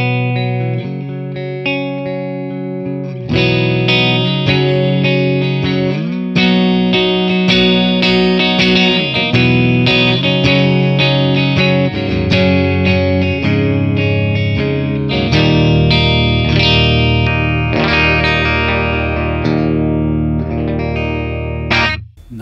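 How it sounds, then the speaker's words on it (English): Clean, bright electric guitar tones from a Les Paul played through a Morgan Dual 20 amp capture, chiming sustained chords and arpeggios with a slight chorus-like shimmer, loud and continuous with no talking. "Nice clean tones with the Les Paul"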